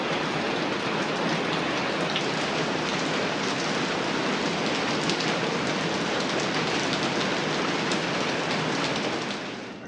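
Heavy steady rain pouring down in Delhi, a dense unbroken hiss of drops on surfaces at constant loudness that fills the whole stretch; no one talks.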